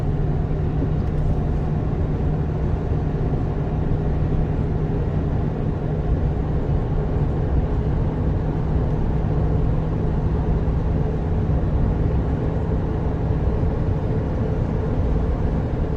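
A 2003 Chevy Silverado truck on the move, its steady engine and road rumble droning evenly throughout, close and continuous with no talking.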